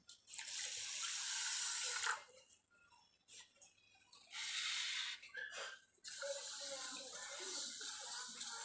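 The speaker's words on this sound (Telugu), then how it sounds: "వాటర్ సరిపడా పోసుకోవాలండి." Water poured into pearl millet flour with grated dry coconut and cardamom for burelu dough, quiet splashing pours in three separate bursts with short gaps between.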